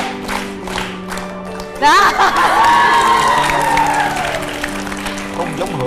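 Studio audience at a Vietnamese dating game show cheering, clapping and shouting, a loud burst of crowd noise and applause that swells suddenly and carries on under ongoing talk.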